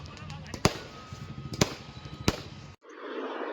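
Firecrackers go off during a cricket World Cup final celebration. Three sharp, separate cracks ring out over busy background noise and voices, then the sound cuts to a muffled hush.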